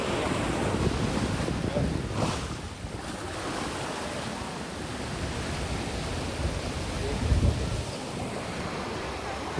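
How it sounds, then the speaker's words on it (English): Ocean waves surging against the rocks of a small pier at La Jolla, a steady loud wash of surf with gusty wind buffeting the microphone throughout. "you can hear how the waves are picking up and hitting the little pier area, the rocks in the pier"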